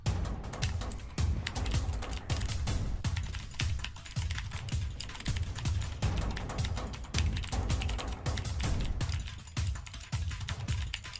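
A computer keyboard is hammered hard and fast during a Blox Fruits game, with dense, loud, close key clatter in rapid bursts continuing steadily throughout.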